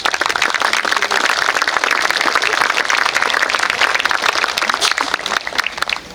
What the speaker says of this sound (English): we all need to give a round of applause